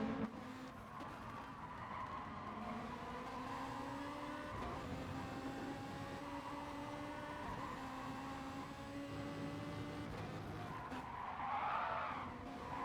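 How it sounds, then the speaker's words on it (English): Tyres squeal steadily in Gran Turismo Sport, a continuous high whine over the constant roar of race car engines, with a louder burst of screech near the end. "You can hear those tyres squealing."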